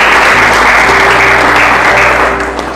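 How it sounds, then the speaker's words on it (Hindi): A church congregation clapping in praise, loud and close, a dense sustained burst of many hands that holds steady and then starts to fade at the end. "ताली बजाकर प्रभु की महिमा करें"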